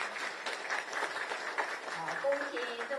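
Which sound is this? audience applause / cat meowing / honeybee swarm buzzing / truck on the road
audience applause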